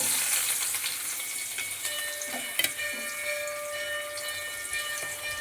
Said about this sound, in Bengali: পেঁয়াজ কুচিটাকে একটু লাল লাল করে ভেজে নেব